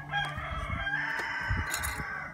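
A rooster crows nearby in one long, drawn-out call, with faint clucking and low background noise.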